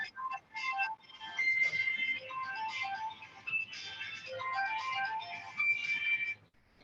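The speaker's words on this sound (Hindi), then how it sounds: "आपका मोबाइल बज रहा है कि उनको साइलेंट कर लीजिए" A mobile phone ringtone plays during a yoga sutra class, a faint melodic electronic tune of repeating tonal notes that carries on for several seconds in an otherwise quiet room.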